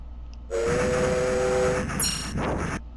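Train in the 1991 Konami arcade game Teenage Mutant Ninja Turtles: Turtles in Time, a loud rumbling rush with a blaring horn tone, followed by a short high whistle burst, then fading out.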